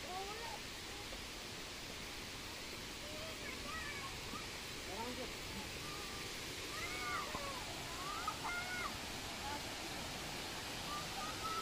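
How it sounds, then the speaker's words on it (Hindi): Abbey Falls, a waterfall in Coorg, India, gives off a steady broadband rush of falling water, constant and moderately loud, while people talk intermittently over it. "तो ये अब हम आ गए एबे फॉल्स।"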